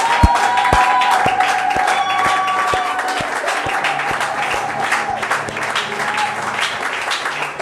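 A church congregation claps together in a steady, even rhythm, a bright crowd of hands filling the room at close range while music plays underneath.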